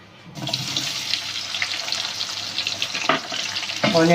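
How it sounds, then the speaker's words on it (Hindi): Onions fry in about half a cup of hot oil for chicken karahi, giving a continuous, watery hiss with a few sharper bursts near the end. "देखिए, जब तक हमारे ऑनियन फ्राई हो रहे हैं"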